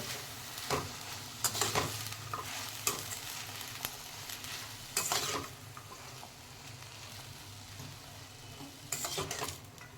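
Tender cowpeas sautéing in a pan: a soft steady sizzle broken by sharp bursts of stirring and scraping at irregular intervals, fairly quiet overall.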